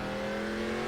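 A race car engine in a road-course racing video game drones at high revs with a steady tonal whine, held loud and constant through a brief moment as the rear wheel hops and the car spins.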